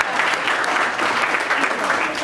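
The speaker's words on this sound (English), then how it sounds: "Round of applause." Applause from an audience at a chefs' event, a dense, even wash of many hands clapping at steady volume, with a little crowd murmur beneath.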